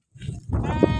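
Sheep grazing on wet green pasture let out a close, loud, wavering bleat that swells after a brief softer call, with a faint voice in the background.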